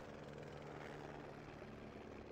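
A military helicopter in the farming game Farming Simulator 15 gives off a steady, dense rotor and engine drone that fills the background at a constant low level, heard alone without any voices.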